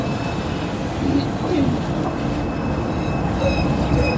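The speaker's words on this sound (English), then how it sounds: "Ooh, Tram action. Look at this. Tram action city." The number 18 tram runs through Cologne, Germany, as a steady rumbling rail roll with faint wheel squeal, heard fairly close and continuous, while people talk quietly over it.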